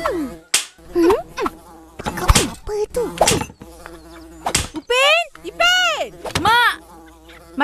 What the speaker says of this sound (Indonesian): Pukul lalat.